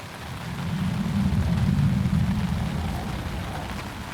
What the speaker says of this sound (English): We got a plane going over, so we've got a timeout. The plane and the rain, lots of noise.